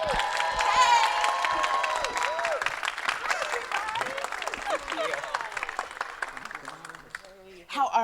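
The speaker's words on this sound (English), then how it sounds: "please give a rousing round of applause to our ambassador this year, the Miss Sherri Shepherd." Applause and cheering from an audience at a black film festival conversation event swell as a guest is welcomed, with whoops and shouts over steady clapping and people talking through it before it fades.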